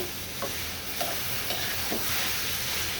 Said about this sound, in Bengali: তাই আমি রান্না করে নিচ্ছি ডিমের কোরমা আর পোলাও।